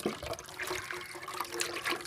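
Water is turned on and runs in a fish-keeping setup, a soft, close splashing flow that continues throughout.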